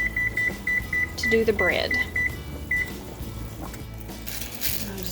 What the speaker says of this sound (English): I'm going to go ahead and preheat my oven to 425